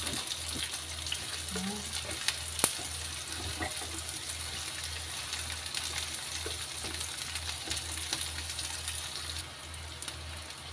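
Garlic sautéing in a pan for squid adobo, a steady low sizzle running throughout with a faint hum underneath and one brief sharp click partway through.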